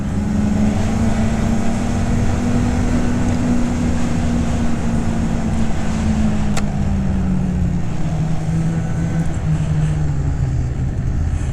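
A Polaris Matryx VR1 850 137 snowmobile being ridden, its engine a loud, steady drone with a slowly falling pitch and constant wind rush, no voices.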